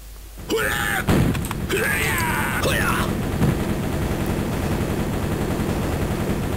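Shotgun-like blasts from a gun in the video game Shadow Warrior, a few sharp bursts in the first three seconds over a steady low game hum, with talk mixed in.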